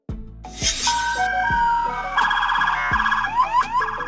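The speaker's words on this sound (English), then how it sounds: "Police car." Police car siren wailing loudly and close by, with rising and falling tones that shift into a faster, higher warble partway through, no voices over it.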